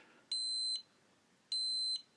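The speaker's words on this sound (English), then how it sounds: "it beeps twice to tell you that it connected to the quadcopter" A Cheerson CX-10A micro quadcopter's controller beeping twice on connecting, two short, clear, high electronic tones evenly spaced in a quiet room.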